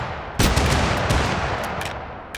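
Dual-wielded guns fire rapidly in Totally Accurate Battlegrounds, a loud, dense burst of gunfire that begins abruptly and keeps up a steady, crackling barrage to the end, heard alone without talk.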